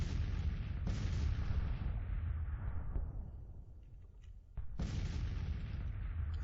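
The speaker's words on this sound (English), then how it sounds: "Garnett's artillery can't get the line of sight on these guns, but are bombarding them in the wooded terrain" Artillery bombardment of guns in wooded terrain during a Civil War strategy game battle: heavy, continuous booming barrages that roll on, fade briefly, then return with a fresh loud blast.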